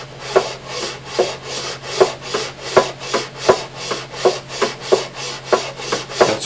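File rasping over the fret ends of a Martin 00028 acoustic guitar, a close series of about fourteen regular scraping strokes, each a short gritty swell, in an otherwise quiet room.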